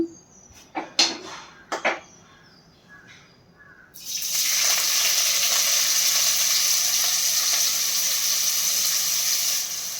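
Onions hit a hot, oiled pan while country chicken curry is cooked. A few light taps and clinks come first, then a loud, steady, close sizzle runs on without a break.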